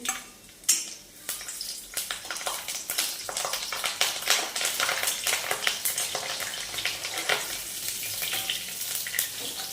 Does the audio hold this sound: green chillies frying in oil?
yes